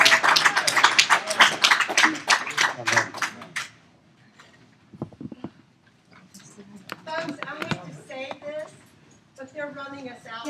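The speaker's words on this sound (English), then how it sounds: "That deserves a round of applause." Lively applause from a lecture audience after a talk on genetic genealogy and Irish migrations, dense and close for a few seconds before fading out as people start talking.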